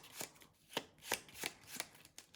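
Playing cards from a Marvel Team-Up game are shuffled by hand in a quiet room, six or seven crisp riffling bursts in a quick, irregular rhythm, close and fairly soft.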